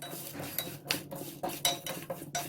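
Masala with red chilli powder being dry-roasted in a pan on low flame for salan masala, a utensil scraping and clinking against the pan in an irregular string of short, close strokes.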